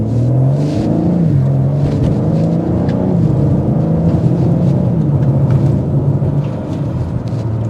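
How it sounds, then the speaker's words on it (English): Loud, continuous exhaust drone from a 2024 BMW M4 Competition with its active exhaust on while driving, a steady throaty engine note that rises and falls slightly with throttle and carries on alone, without talk. "Leave the active exhaust note on."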